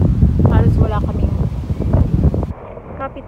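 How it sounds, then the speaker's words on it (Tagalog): Gusty wind blows steadily outdoors near a house with a bird house in the yard, a broad rushing roar buffeting the microphone, while someone talks over it throughout. "Oh, medyo mahangin ngayon."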